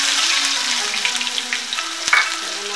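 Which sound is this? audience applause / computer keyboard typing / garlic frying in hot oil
garlic frying in hot oil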